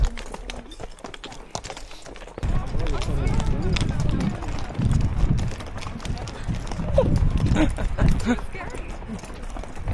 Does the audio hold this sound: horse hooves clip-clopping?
yes